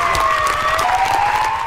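Neighbors clap from their windows at 8 p.m. during the 2020 lockdown, a loud, dense wash of applause with cheers and a few shouts, plus a sustained whistle-like tone above it.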